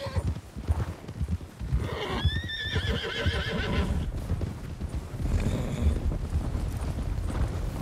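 A horse in the Western video game RedM gallops with continuous, rhythmic hoofbeats and lets out a loud, wavering neigh partway through, all close and prominent.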